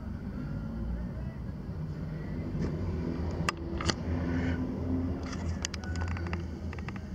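A 2017 Chevrolet S10 2.5 flex-fuel pickup with a six-speed manual idles steadily after starting, a low, even rumble heard from close by, with a few faint clicks over it.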